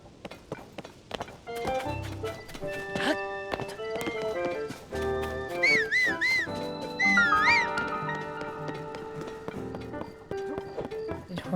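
Horse galloping with clip-clop hoofbeats and neighing in Zelda: Tears of the Kingdom, with game music tones and a couple of rising-falling whinnies mid-way, steady and fairly loud throughout.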